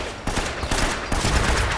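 Dense, continuous gunfire crackles throughout from a weapon in the video game Uncharted: Drake's Fortune, sharp repeated bursts blending into a loud, near fusillade with no voices over it.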